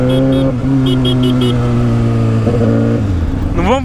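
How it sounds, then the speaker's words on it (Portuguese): A loud Suzuki SRAD 750 motorcycle engine idles close by, then revs up sharply near the end with a rising pitch. "Devolver a moto pro Rudine."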